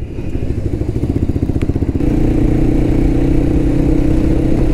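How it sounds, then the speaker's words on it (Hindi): KTM Duke 200 and Royal Enfield Himalayan motorcycles on an offroad ride, a loud close rhythmic engine thrum that shifts to a steadier, denser drone partway through. "अपने राइडर्स यहाँ पे KTM Duke 200 पे है एंजल राइडर, एंड हिमालयन पे है आर्थ"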